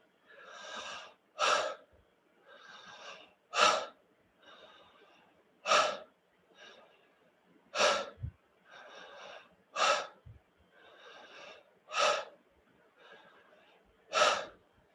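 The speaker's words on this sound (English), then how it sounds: "you can also start really doing the short sigh out breath that you would usually do in connective breathing" Connective breathwork breathing, alternating audible inhales with short, sharp sigh-out exhales in a steady rhythm of about one cycle every two seconds, close and alone.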